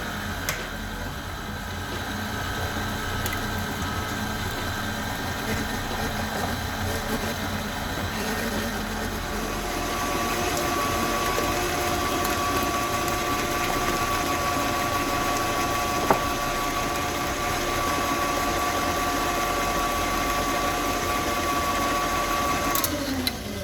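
Electric mixer running steadily as eggs are beaten into a creamed sugar and butter mixture for a rhubarb sour cream coffee cake, a continuous whirring motor hum that lasts throughout, close and unbroken, with no talking.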